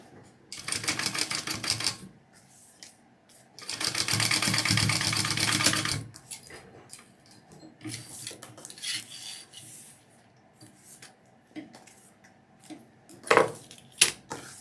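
A domestic sewing machine basting a fabric gusset, running in two steady rapid-stitch bursts of a few seconds each, close and clear, followed by quieter fabric handling and a few knocks.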